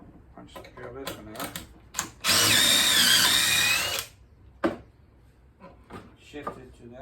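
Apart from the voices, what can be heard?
drill making pocket holes with Kreg pocket hole jig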